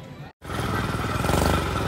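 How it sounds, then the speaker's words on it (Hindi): A child's ride-on toy bike gives off a buzzy, continuous motorbike engine sound, loud and close, after a brief cutout near the start, with a steady pulsing rumble throughout. "ये तो रियल बाइक जैसा साउंड है यार"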